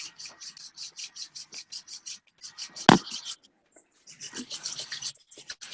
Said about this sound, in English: So just rubbing our hands together.